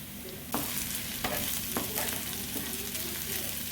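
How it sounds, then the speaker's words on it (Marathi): Onion frying with curry leaves in a pan until golden brown, a dense, loud, continuous sizzle with a few distinct stirring scrapes near the start, heard close and without talking. "कांदा टाकायचा आहे आणि कांदा हा आपल्याला थोडासा गोल्डन ब्राऊन करून घ्यायचा आहे"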